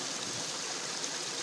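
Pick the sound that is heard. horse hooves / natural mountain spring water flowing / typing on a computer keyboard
natural mountain spring water flowing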